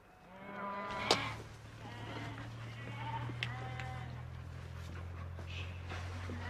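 Scots black-faced and speckled-faced sheep bleat on a farm in Ireland, a few moderate calls over a steady low drone, with one louder bleat early on.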